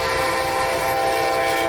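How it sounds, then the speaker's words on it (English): Amtrak passenger train P281 meeting an intermodal and autorack freight train, a steady loud rolling rumble of rail cars with a sustained horn-like tone throughout, no voices. "This next catch is Amtrak P281 meeting the intermodal/autorack train."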